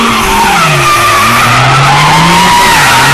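A car's tyres skid and squeal across wet asphalt, a loud, sustained screech with wavering pitch that fills the whole stretch without a break.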